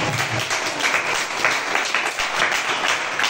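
A church congregation in Bobo, Burkina Faso, applauds in praise of the Lord. Dense, continuous clapping from many hands fills a room, with a few swells and no break.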